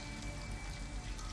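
Steady rain patters continuously outside an abandoned house in Detroit: Become Human, a dense, soft hiss of drops on surfaces with low rumbling beneath, constant and unbroken.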